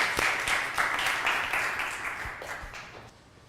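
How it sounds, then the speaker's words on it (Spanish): An audience claps for Jorge at a motivational talk, a steady round of applause that gradually fades away. "Un aplauso para Jorge, por favor"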